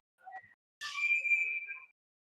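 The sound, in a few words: referee whistle at an ice hockey game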